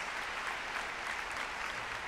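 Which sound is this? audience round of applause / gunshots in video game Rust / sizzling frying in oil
audience round of applause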